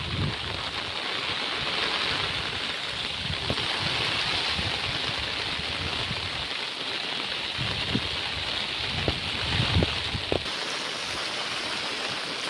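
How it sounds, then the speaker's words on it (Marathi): Water rushes continuously in a perennial river beside flat farmland in the Konkan, Raigad, a full, steady broadband roar with occasional low thumps and no talking. "बारमाही नदी वाहणारी"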